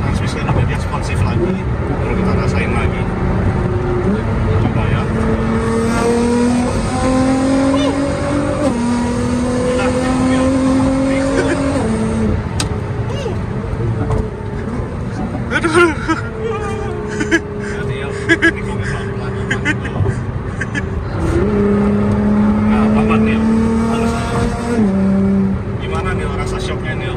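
Modified Nissan GT-R Nismo accelerating hard on a wavy toll road, heard from inside: a loud engine note climbs repeatedly through gear changes in rising sweeps, with people talking over the steady drone.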